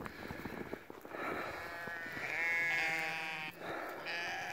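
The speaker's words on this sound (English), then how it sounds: "These are all registered hair sheep." Registered hair sheep bleat on a snowy, windy farm, several drawn-out calls overlapping at close to moderate distance over soft wind noise.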